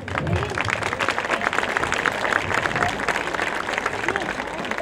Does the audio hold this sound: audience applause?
yes